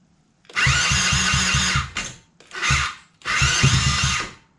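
Cheap used quad bike's small engine being cranked with the choke on: three bursts of loud buzzing cranking, the first longest, separated by short pauses, close and alone.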